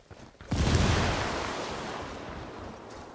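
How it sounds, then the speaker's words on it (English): Explosion in the Ghost Recon Wildlands video game during a mission to destroy a drug lab aboard a boat: a single loud, deep blast with a heavy low rumble, fading slowly into a long tail. "That explosion's got him suspicious."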